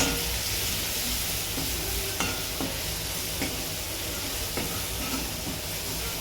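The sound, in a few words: sautéing with salt and turmeric in a pan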